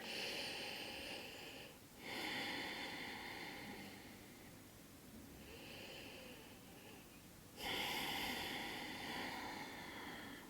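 Slow, deep belly breaths during a yoga flow, each exhale pushed out through the mouth: several long, airy, rushing swells that rise and fade, close and alone.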